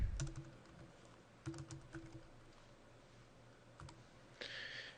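Clicky computer keyboard keys typed in short irregular bursts, fairly close and moderately loud, with pauses between runs of keystrokes over a faint steady room hum.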